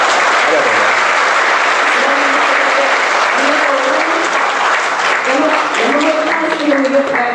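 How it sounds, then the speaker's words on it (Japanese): Sustained, loud audience applause following a lecture on newly discovered family documents concerning Yamamoto Kansuke, dense clapping that fills the room with voices faintly mixed in. "それでは皆さん、もう一度感動の大きな拍手を送ってください。"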